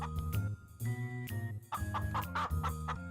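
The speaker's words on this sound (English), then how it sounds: "A little later, Rapunzel heard clucking sounds." Several chickens cluck in short bursts for a storybook scene, with close, rhythmic clucks and a light jingle in the background.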